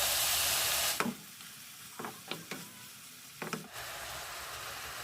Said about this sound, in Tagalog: Lagyan natin ng patis.